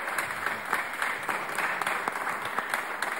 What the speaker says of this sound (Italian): Ecco, questo applauso